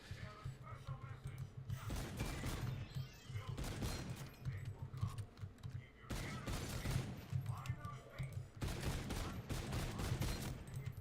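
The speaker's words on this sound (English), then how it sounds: "I'm sorry I shot you, Neil." Rapid gunfire from Call of Duty: Infinite Warfare Zombies crackles in repeated bursts over about eleven seconds, mixed with mechanical game clanks under a low background hum.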